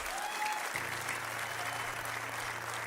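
Sustained crowd applause fills a hall during a motivational speech, thick even clapping with no gaps, carried over a steady low hum that begins partway through.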